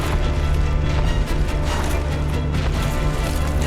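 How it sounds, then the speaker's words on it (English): A demon's heavy butt slam attack in the Dark Souls video game lands as a loud, dense crashing impact with booming rumble, sustained noisy thudding and debris-like clatter throughout, no voices over it. "Big ol' butt slam."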